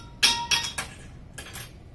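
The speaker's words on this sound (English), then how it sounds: "This is a glass bottle." A glass bottle clinks in a few bright, sharp taps, three in quick succession and then two softer ones, close by in a quiet room with no talking.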